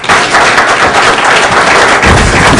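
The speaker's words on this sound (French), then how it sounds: "On continue d'applaudir son Excellence." Loud, dense applause from an audience honoring an ambassador at an official launch event, continuous clapping filling the whole stretch without pause.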